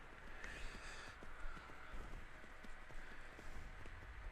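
Horse hooves clip-clopping in Skyrim, a quick, regular run of faint hoofbeats over a low game ambience throughout.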